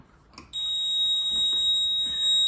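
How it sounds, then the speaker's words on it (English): An oil leak detector's optical sensor triggers a piercing, steady electronic alarm tone that starts abruptly after a short click and keeps sounding continuously, loud and close. "And as you can hear, it's gone off an alarm"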